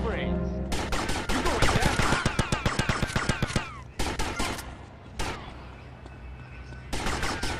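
Rapid automatic gunfire in GTA Vice City Definitive Edition, loud close bursts of sharp shots in quick rhythm, broken by pauses and single cracks, then resuming near the end.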